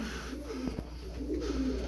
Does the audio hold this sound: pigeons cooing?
yes